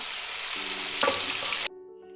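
Loud, continuous sizzling of beef frying in hot oil in a heavy-bottomed pan with a stirring scrape midway, then the sizzle cuts off abruptly, leaving a faint hum.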